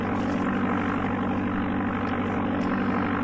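A propeller plane engine from the Amiga game Flight Simulator II drones steadily and loudly, a dense unchanging hum with no talk over it.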